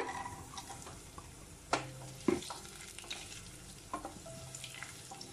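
Soft, steady sizzling of cashews and raisins frying in a pan, with a few sharp clinks of a spoon stirring against metal.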